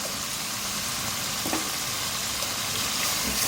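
Cubed small potatoes frying with masala in a pan, a steady soft sizzle and crackle throughout, close and even, with faint stirring clicks.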